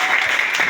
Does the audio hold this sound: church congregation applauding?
yes